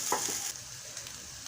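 Onions and finely chopped chillies frying in a pan for an egg omelette, a soft sizzle with faint stirring scrapes near the start, steady and quiet with no voices.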